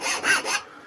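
A tool scratches a spiral start line onto a wooden goblet blank, three quick close rasping strokes before falling quiet.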